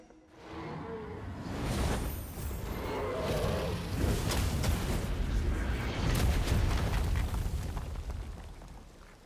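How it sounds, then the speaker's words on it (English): An enormous explosion in the video game Genshin Impact, heard as a long rolling roar and rumble that swells after a second and sustains loudly, like an eruption with crumbling debris. "As an enormous explosion rings out,"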